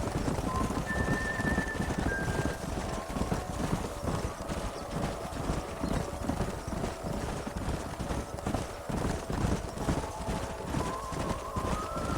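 Rapid, continuous clip-clop of several galloping horses in Red Dead Redemption, loud and close, with a faint neigh and a steady rumble underneath.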